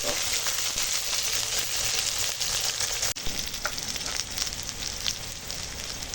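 Halved whole eggplants fry in a pan with a loud, continuous sizzle and crackle, and a sudden jolt partway through is followed by renewed spitting and popping.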